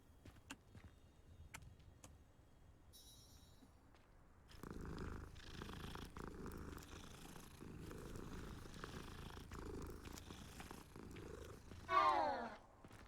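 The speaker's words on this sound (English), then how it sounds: "Cat, gotta pet the cat." A cat purring softly as it is petted in a video game, a low steady rumble beneath faint ambient game sounds, with occasional ticks and a brief rising chirpy effect near the end.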